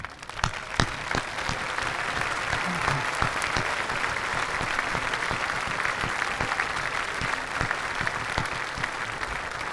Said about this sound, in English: If you could all please stand for a moment, we'd like to give you a round of applause.